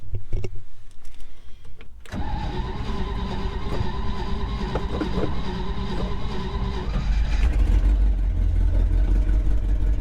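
The engine of the truck Old Blue cranks and catches, then runs at a steady, close, loud idle that rises into a heavier rumble near the end, with no talking.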